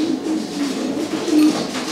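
A pigeon coos repeatedly in low, throaty murmurs, close and clear, with no other voices around.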